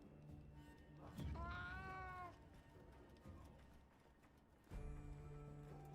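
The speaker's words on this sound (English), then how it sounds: "You got some mews for me?" A cat meows clearly in a rising, wavering call near the middle, followed by a second shorter meow near the end, set over faint background noise and game music.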